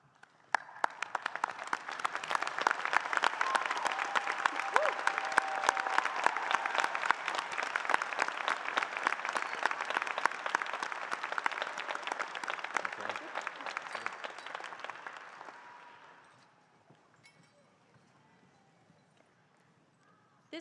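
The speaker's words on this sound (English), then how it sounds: "taking a few seconds to applaud all our faculty and staff" A high school graduation crowd applauds faculty and staff in a long, dense roar of clapping that holds steady for about fifteen seconds, then tapers off into quiet room noise.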